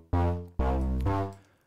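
A solo bass part from a song mixed in Unity3D plays three deep, sustained notes in a row, each starting sharply and ringing until the next, the last one fading out.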